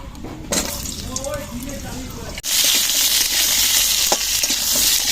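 Potato and papaya frying in hot oil in a wok: a soft crackle under background voices, then a loud, steady hiss as the pieces hit the oil halfway through, sizzling continuously to the end.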